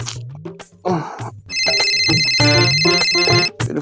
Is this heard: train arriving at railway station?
no